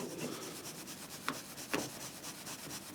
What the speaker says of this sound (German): Mit einem Mikrofasertuch, Druck und einer Heavy Cut, also einer Schleifpolitur, kann man hier eine ganze Menge rausholen.